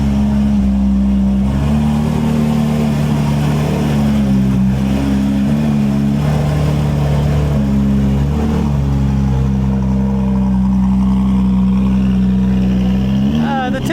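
Porsche GT4 RS fitted with a full titanium valvetronic exhaust, revving up and settling in loud, close waves of deep, droning engine tone over a constant rumble, with a person talking over it.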